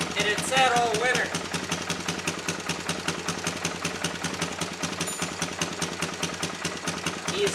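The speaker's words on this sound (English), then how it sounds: "So there it is. It fired up. Pretty easy, considering it had sat all winter." A 2003 Suzuki LTZ 400 ATV engine idles steadily after a cold start following a winter of sitting, its fast, even putter running loud and close throughout with no letup.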